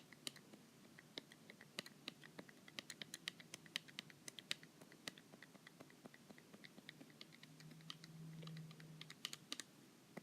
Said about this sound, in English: the clicky click is my stylus